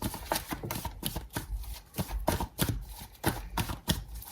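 Tarot cards being shuffled by hand, with quick rhythmic riffling and slapping bursts repeating close up at moderate volume, no speech.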